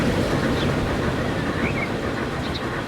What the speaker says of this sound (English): It's definitely a train coming the opposite way.